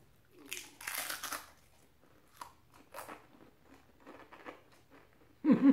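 Chewing during a Sunday dinner mukbang: close, crunchy bites and mastication in irregular bursts separated by pauses, with a louder thump at the end.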